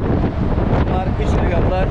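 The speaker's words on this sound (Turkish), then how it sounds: "Bayağı bir rüzgar var, sesim zor gelebilir." Strong wind buffets the microphone on the deck of the cargo ship M/V Mehmet Aksoy, a loud, steady roar with gusty rumble dominating throughout.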